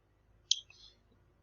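A single mouse click on a job listing's view button, a short crisp tick followed by a faint softer release, alone in near silence.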